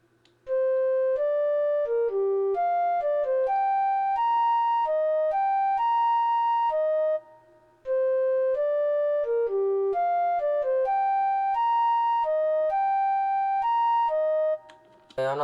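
Piccolo flute lead built from chopped MIDI notes in FL Studio, a clean synthetic melody of short separate tones in a repeating ambient trap phrase, playing twice with a brief gap between, alone and bright.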